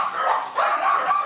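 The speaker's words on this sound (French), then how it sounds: "30 chiens dans une petite maison" Several Xoloitzcuintle dogs bark and yip in quick, overlapping bursts inside a small, crowded breeder's house, loud and close.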